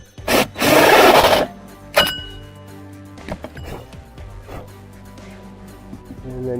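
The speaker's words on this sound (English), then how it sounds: "we're only going to go through the aluminum, and leaving the screws" Hand sawing through an aluminum gutter section mounted over wood: one loud, dense rasping burst of cutting near the start, a sharp metallic strike at two seconds, then quieter scattered clinks and scrapes.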